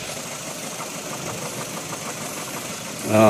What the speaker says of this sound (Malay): Ini bahagian engine memang bergegar disebabkan timing terlalu rendah bro Q. Dia punya RPM terlalu rendah.